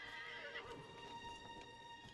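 A horse in the video game Dragon Age: Inquisition neighs in a clear, rising whinny, with faint hoof clip-clop over steady game music and ambience, no talk.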